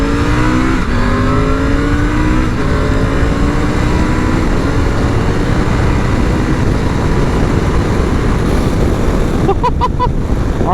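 A Triumph Tiger 900 motorcycle pulls hard, its engine note climbing in pitch over the first seconds, then gives way to a loud, steady rush of wind, with a few brief clicks near the end.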